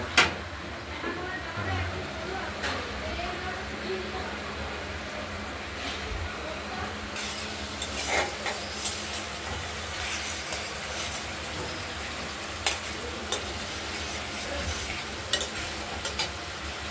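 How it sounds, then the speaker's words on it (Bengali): Spice paste for a katla fish curry with potato and coriander sautés in a pan, with a constant close sizzle broken by scraping stirs and utensil knocks, while a voice talks over it at times. "মশলাটা কষানো হচ্ছে।"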